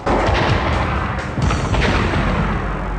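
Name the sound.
movie explosion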